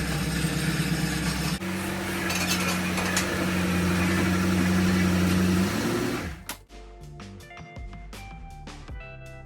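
An engine runs steadily on an 1981 town coupe, a low humming drone with a slight rise in pitch as the car is maneuvered, then cutting off abruptly into scattered clunks and knocks.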